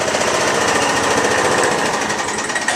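A 1987 John Deere AMT 626 utility vehicle engine runs steadily and loud up close, a continuous rapid mechanical chatter with no talking over it.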